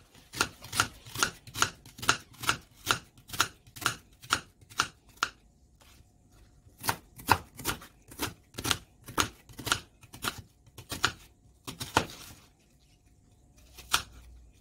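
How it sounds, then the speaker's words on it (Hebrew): A knife chops two big onions into small pieces on a board. The cuts come as a long, regular series of crisp, close taps, stop briefly, then start again in another rapid burst, with no one speaking. "Two big onions cut to the little pieces."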